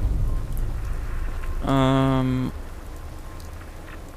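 Rain falling in the video game Fallout 4, a steady soft hiss running through the whole clip, with brief speech over it partway through.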